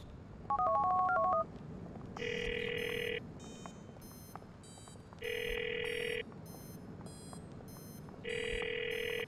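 Ringing phone in the video game GTA 4: a short burst of dial tones, then three loud electronic ring bursts at a steady rhythm, each about a second long with pauses between, over quiet game ambience.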